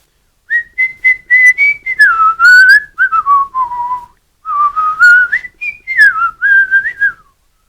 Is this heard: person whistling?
yes